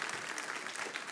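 Brief burst of applause from a tech conference audience during lightning talks, a dense steady patter of many hands clapping at moderate volume.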